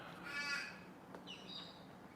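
A magpie, a bird known to mimic other birds such as kookaburras, gives a raspy crow-like call, then a brief click and a series of higher whistled notes. The calls are fairly faint and sound outdoors with no talking.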